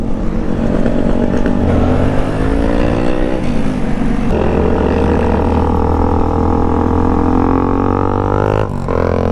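A loud supermoto-style dirt bike rides through city streets, its engine revving up and down in rising and falling sweeps close by, with no speech over it.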